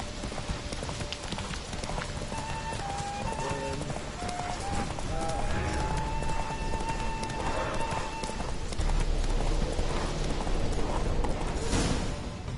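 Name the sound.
horse Roach galloping in video game The Witcher III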